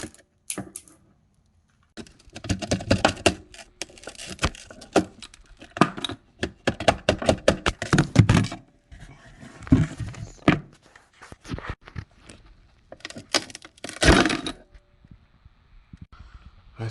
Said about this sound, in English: just get the flathead screwdriver behind the mirror and just press it in until it breaks off